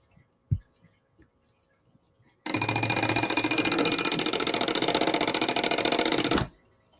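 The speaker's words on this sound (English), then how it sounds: "That's what the alarm sounds like." After a faint click, the mechanical alarm bell of an Ingraham 8-day clock rings loudly and continuously with a rapid rattling hammer for about four seconds, then stops abruptly.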